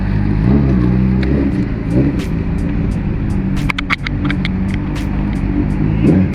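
A heavy motorbike engine revs and rumbles during wheelie practice on a narrow, muddy street, loud and close, with a steady low drone broken by several surging throttle blips and sharp clicks midway.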